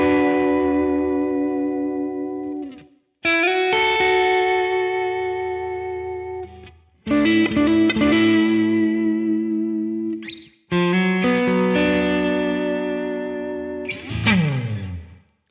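Minor slow blues guitar lick played through effects with distortion and echo, built from four sustained chord phrases with short breaks between them, ending on a wavering whammy-bar bend.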